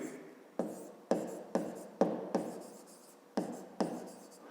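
A pen or pencil writing on paper while working a school geometry exercise, close scratchy strokes arriving in short bursts of about seven separate marks with brief pauses between them.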